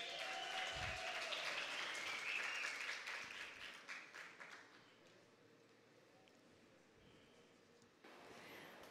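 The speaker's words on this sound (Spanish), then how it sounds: "Fuerte el aplauso" Audience applause at a regional student oratory contest, a dense burst of clapping that fades away after about four seconds, leaving quiet room noise before a brief rise at the end.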